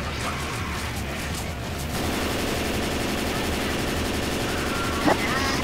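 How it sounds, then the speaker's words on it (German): Rapid, continuous gunfire fills a Left 4 Dead 2 zombie fight, with sustained bursts of automatic fire at moderate, somewhat distant loudness and a sharper crack near the end. "Schießt auf die Zombies!"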